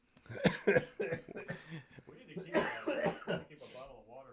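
A man coughs and clears his throat several times in bursts during a live talk-show stream, mixed with people talking and a little laughter, moderately close.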